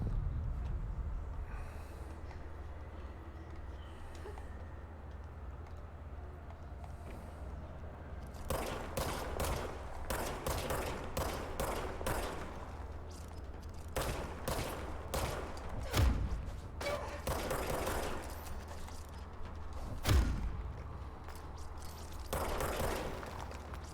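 In the video game Control, gunfire breaks out after a quiet stretch: clusters of rapid shots and bursts, moderately loud, scattered irregularly through the second half, no talk.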